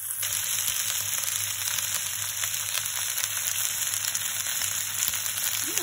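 Assorted vegetables fry in a pan with a loud, steady, dense sizzle and crackle that holds evenly from start to finish, close up and without talking.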